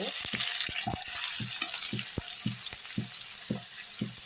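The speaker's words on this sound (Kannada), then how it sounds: "ಈರುಳ್ಳಿ ಸ್ವಲ್ಪ ಫ್ರೈ ಆಗಿದೆಯಲ್ಲ" Onions frying in oil with whole spices such as cloves for a chicken masala, with a bright continuous sizzle and a regular rhythm of utensil taps and scrapes against the pan.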